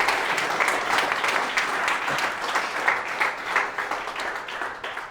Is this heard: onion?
no